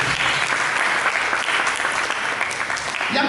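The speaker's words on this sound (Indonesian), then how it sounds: "Mari kita berikan tepuk tangan bagi Yesus." A church congregation breaks into loud, dense applause during a sermon, a continuous wash of many hands clapping for a few seconds.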